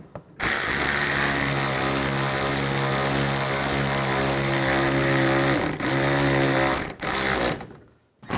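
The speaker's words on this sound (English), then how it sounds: "Now tighten the bolts down." A power tool runs steadily while tightening bolts on the inner fender liner of a 2007-2013 Chevrolet Silverado, a loud continuous whine with rich harmonics that dips briefly twice and stops near the end.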